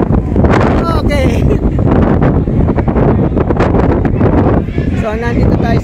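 Strong wind buffeting the microphone on the open top deck of the MSC Seaview cruise ship at sea, a loud continuous roaring gust noise with people talking underneath.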